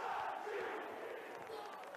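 Distant crowd of yellow-red football supporters chanting and roaring after a goal, a faint continuous mass of voices with a rising and falling tone.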